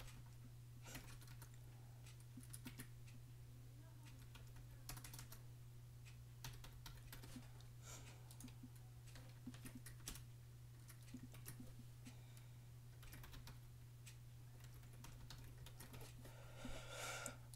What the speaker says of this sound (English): I'm just typing something down real quick.